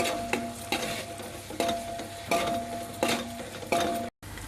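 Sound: onion paste frying and being stirred in a pan

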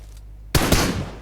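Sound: gunfire in PUBG Mobile video game

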